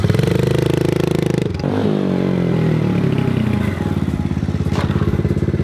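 A motorcycle is ridden at close range, its engine droning loudly and steadily with a pitch drop and a change of tone partway through, then revving again, with light clatter and rattles throughout.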